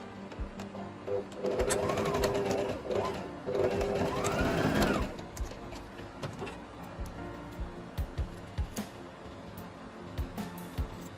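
A sewing machine top-stitches a half-circle flare maxi skirt, a close motor whine that speeds up and slows down in bursts over four seconds, followed by scattered small clicks and ticks.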